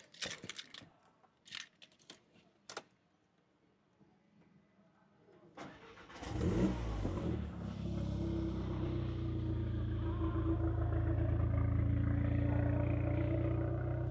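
A car engine cranks and catches after a few seconds of faint ticks and clicks, then settles into a loud, steady idle that holds with a deep rumble.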